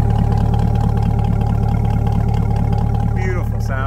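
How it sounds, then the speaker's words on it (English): A 2021 Chevrolet Corvette Stingray 2LT idles with a deep, steady exhaust rumble, loud and close, holding an even throb throughout with a brief faint chirp near the end. "Take a peek at that exhaust."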